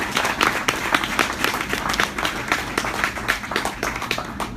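A crowd applauds a Just Leadership USA staff at a 2017 graduation ceremony, with dense, steady clapping from many hands throughout, loud and continuous, with no pause.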